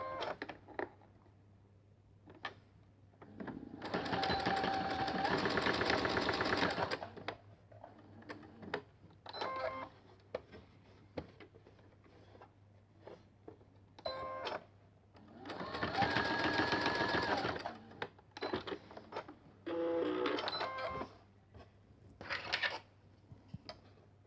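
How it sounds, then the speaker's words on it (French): A sewing machine topstitches along the bottom of a buttonhole placket in loud, close bursts of rapid stitching, separated by quieter pauses filled with small clicks and handling sounds. "Je peux également faire une petite surpiqûre en bas qui va consolider ma patte de boutonnage."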